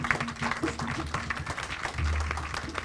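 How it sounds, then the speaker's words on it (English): An audience at an evening event for a hurricane relief effort applauds steadily for a few seconds to welcome a speaker, a dense, moderately loud patter of clapping. "Please give her a warm round of applause."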